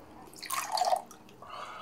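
Water pours briefly into a drinking glass indoors, a short, bright trickle of under a second that swells and fades, with no talking.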